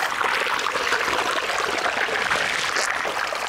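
Clear stream water flows in the foothills of Kolli Hills, a steady, close rushing and trickling that stays constant throughout with no voices.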